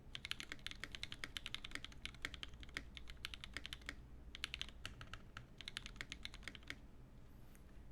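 Fast typing on a Bahrnob65 mechanical keyboard fitted with Durock linear switches: quiet, rapid bursts of light clacks with brief pauses between runs, heard fairly faintly and alone.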